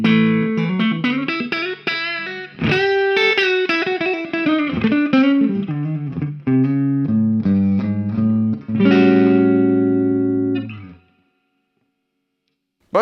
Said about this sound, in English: This is the neck pickup in humbucker mode.